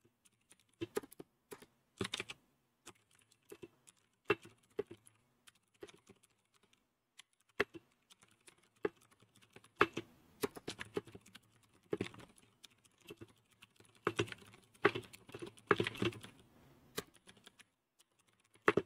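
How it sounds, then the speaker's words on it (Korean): Clicky Leopold mechanical keyboard with blue switches typing, close and crisp, in irregular bursts of keystrokes with short pauses, speeding into a dense flurry near the end. "청축 소리 한번 들려드릴까요?"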